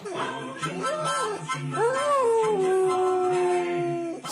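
A dog howls in long rising and falling wails with a few whimpering yips, close and loud, while Christmas carolers sing nearby.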